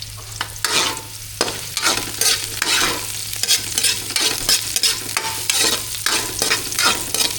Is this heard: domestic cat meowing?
no